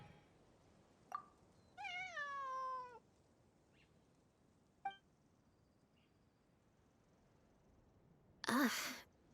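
A cat in the game Genshin Impact gives a drawn-out, wavering meow after a couple of short chirps, with a soft sigh-like breath near the end, all fairly close against a quiet background.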